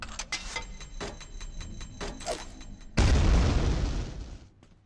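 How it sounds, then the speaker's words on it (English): A grenade goes off in the video game Quake 2, one sudden loud deep blast that rumbles and fades over about two seconds, following a stretch of quieter clattering game sounds. "Can we chuck a grenade through the hole?"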